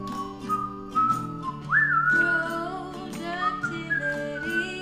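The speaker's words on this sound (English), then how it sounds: "I can't hear him over the character whistling" A video game character whistles a jaunty melody, clear tonal notes that rise and slide, played over a backing tune.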